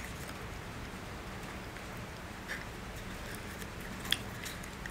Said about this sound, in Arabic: صوت المطر